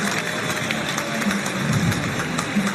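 Stadium crowd at a cricket match between an ICC World XI and the West Indies roaring and cheering after a six lands in the second tier, a steady wash of distant applause and voices throughout.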